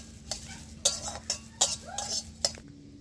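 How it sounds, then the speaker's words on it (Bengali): Lentils for a bottle-gourd dal are stirred in a dry pan without oil, making a series of rhythmic scraping strokes of a spatula against metal, about six in a row, close and fairly crisp over a faint background hum. "আমি তেল দেবো না, আমি শুকনো কড়ায় লেড়ে নেব।"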